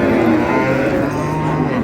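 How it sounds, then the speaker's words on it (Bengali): A cow bellows one long, low, close moo at a busy cattle market in Ambari, Dinajpur, where cows and calves are being sold. "গাভী বাছুর।"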